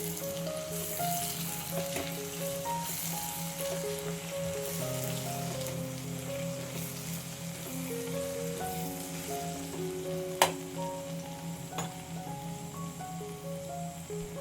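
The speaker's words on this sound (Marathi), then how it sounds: "आता इथे हे मसाले छान वाफवून झालेले आहेत थोडेसे हलकेसे आपण हलवून" Spices for aloo matar pulao sizzle steadily in a pan as they are stirred, giving a continuous crackling fry with a couple of sharp clinks of the spoon, and no voices.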